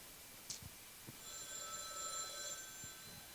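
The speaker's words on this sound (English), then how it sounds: "The phone rings? We have a phone." A telephone bell rings in a banquet hall during an awards dinner, a faint, brief electronic trill heard alone with a few soft knocks around it.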